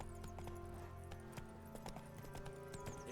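Hoofbeats of the horse Roach galloping in The Witcher 3, a quick, steady run of clip-clop strikes over a low background hum, faint and continuous.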